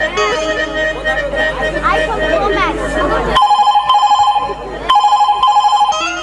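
A telephone rings in a village folk-theatre comedy skit, its repeated electronic trill pulsing loudly and regularly after a stretch of crowd chatter and talk in the opening seconds.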